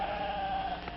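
A single sheep gives a short, wavering bleat, fairly faint and distant, with no voices.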